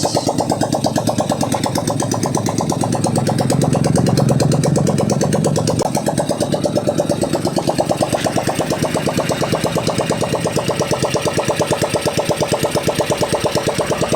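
A freshly overhauled Yamaha Mio Gravis scooter engine runs steadily close by, a fast even idle with a rattly mechanical pulse and a brief swell in the low rumble partway through, no voices.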